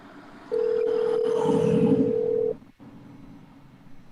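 A telephone tone sounds when a prize winner is called, a single steady electronic tone held for about two seconds at close range before it cuts off, with background room noise before and after.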